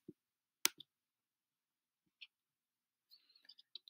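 Sharp, isolated computer mouse clicks sound in near silence, a few spaced single clicks followed by a quick cluster of faint ticks.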